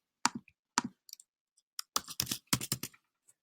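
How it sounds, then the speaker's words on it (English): A password is typed on a computer keyboard: scattered, crisp key clicks, a few isolated taps followed by a quick cluster of keystrokes, close and fairly quiet. "I'm typing the weak password, and you click login."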